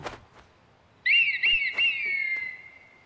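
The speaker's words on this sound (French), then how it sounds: "Sifflement." Whistling by a character in the video game Assassin's Creed Mirage: a loud, clear, warbling whistle that rises and dips, held for about a second and a half before fading, alone over a quiet background.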